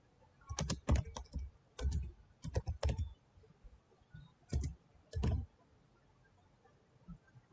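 Keys on a computer keyboard clack in short bursts of quick strokes while HTML is being written, with clear pauses between bursts and a quiet room behind them.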